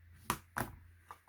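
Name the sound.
bone folder creasing cardstock edges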